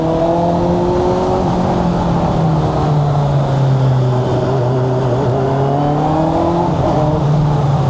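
A Honda CB1000 Hornet 1000cc motorcycle engine revving up close, a loud, continuous roar whose pitch swells and dips as the throttle is worked, with no voices.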